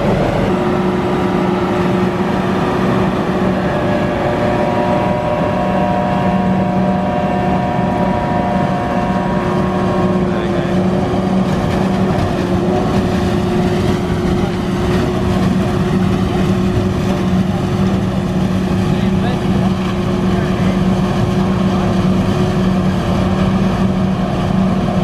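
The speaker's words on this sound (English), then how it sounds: "There's the forage harvester." A big John Deere forage harvester works in a maize field, its engine giving a steady, loud drone with a constant low hum and no breaks for the whole stretch.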